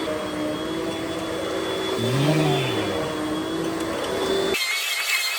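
A Russell Hobbs Athena Pet swivel upright vacuum cleaner running on carpet, a steady loud motor whine with a brief pitch swell midway, ending abruptly; one short spoken word.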